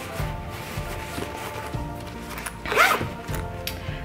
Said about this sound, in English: I'm going to put those in this flat zippered compartment right here